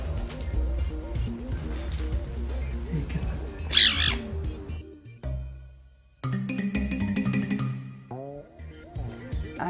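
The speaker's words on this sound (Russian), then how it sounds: "Они издают звуки, напоминающие чириканье птиц." A caracal gives bird-like chirping and squawking calls, a string of wavering pitched cries with brief pauses between them, fairly close and clear.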